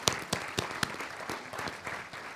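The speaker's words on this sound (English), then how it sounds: "I'd appreciate your applause as we welcome Andrea to the podium" Scattered, fairly quiet applause at a speaker forum as a school principal comes to the podium, with a few sharp individual claps standing out at the start before thinning into a softer patter.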